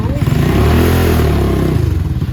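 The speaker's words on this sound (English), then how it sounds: "As you feel the bike start to move, then you hit the gas" A Venom motorcycle pulling away under throttle, its engine close and loud, rising in a rough climbing rev before settling.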